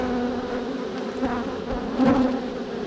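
Honeybees from a package colony buzz steadily around an open hive frame, a close, continuous droning hum that swells briefly louder near the end.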